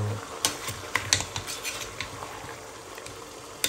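A utensil stirs pork adobo in a pan, scraping and clinking in irregular strokes over a soft frying sizzle, close and fairly loud.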